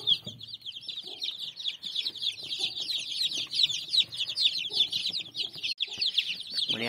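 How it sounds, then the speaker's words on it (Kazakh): A broody hen minding her ten chicks by a brooder clucks steadily and close, with a dense, continuous run of high peeping from the chicks over the top. "Бұл тауық балапандарына жақсы қарап жүр"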